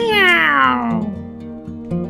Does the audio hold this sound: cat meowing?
yes